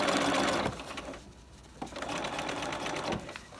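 A sewing machine runs a seam for a welt pocket, its foot riding along the cut edge of the seam allowance: a loud, steady mechanical whir that slows and dips midway, then picks back up in a second run.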